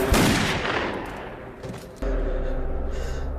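Loud gunfire from a film scene, a heavy blast decaying into echo, then a second burst followed by sustained, rumbling, rapid shots.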